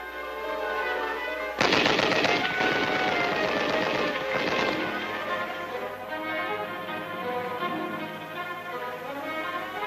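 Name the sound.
machine gun fire during infantry weapons training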